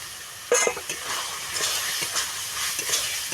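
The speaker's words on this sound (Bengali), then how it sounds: "এটাকে ভালো করে কষিয়ে নিতে হবে।" Spices frying in hot oil for ghugni, a Bengali dish, hiss and sizzle steadily, with a louder burst near the start and light stirring scrapes throughout.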